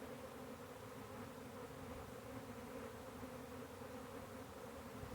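A honey bee swarm holding several queens hums in a steady, dense drone that never lets up, faint and continuous with no voices.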